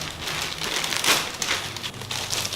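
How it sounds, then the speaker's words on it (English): Packaging crinkles and rustles continuously while a grey laptop bag for a 13-inch MacBook Pro is unboxed, close and moderately loud with brief crackling bursts and no talking. "Also, I purchased this bag which I'm gonna unbox now."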